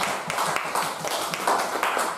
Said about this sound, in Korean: 하나님께 모든 영광 박수를 올려주시겠습니다